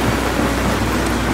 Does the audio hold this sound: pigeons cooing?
no